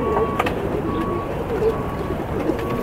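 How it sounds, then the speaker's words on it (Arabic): Pigeons, including fancy and high-grade breeds, coo softly and repeatedly in a loft. Steady background noise hums underneath throughout. "الحمام اهي، تمام؟ نبص كده مع بعض عليهم وهم واقفين"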